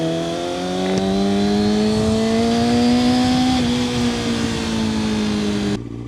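Kawasaki ZX6R 600cc sport motorcycle engine under way, a loud steady drone with harmonics rising as it builds revs, easing slightly midway, then cutting off near the end.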